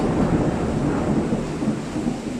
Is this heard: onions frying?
no